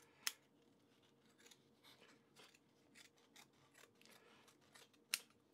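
Antique multitool scissors cut through thick duvetine fabric, with two sharp snips standing out among quieter rustling and sliding sounds at close range.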